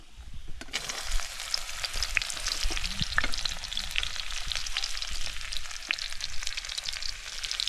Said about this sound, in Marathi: कांदा टाकलाय कांदा परतून घेतलाय